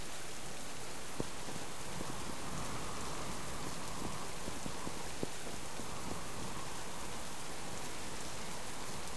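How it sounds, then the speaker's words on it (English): Steady rain falls in the survival video game Subsistence, a constant broadband hiss with occasional distinct drops and taps, even and unbroken, with no talking. "Because of the rain, I really can't hear what's going on."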